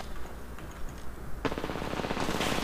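In Apex Legends, another squad's attack brings a sudden burst of rapid automatic gunfire that begins midway and keeps up as a fast, dense rattle over steady game background noise.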